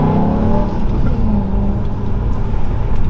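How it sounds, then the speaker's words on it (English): A BMW E92 M3 engine with a primary decat revs loudly and close, its deep rumble rising and holding with a throaty growl throughout. "I'll give it a quick rev for you."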